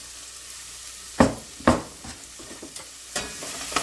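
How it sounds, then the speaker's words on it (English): Vegetables sautéing in bacon fat in a pan for a chicken and sausage étouffée, a soft steady sizzle broken by a few sharp scraping stirs, close and alone. "In goes a little bit more of the bacon fat, and we're gonna saute our veggies"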